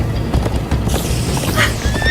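Horses galloping in the Minecraft: Story Mode video game, with steady close hoofbeats and whinnies over a rumbling game soundtrack, loud and continuous.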